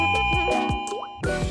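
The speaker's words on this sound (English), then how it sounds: "The doorbell is linked to your phone." A Loock F02 smart lock's video doorbell plays its chime, a short run of bright electronic ding-dong tones ringing out close and clear with no voices.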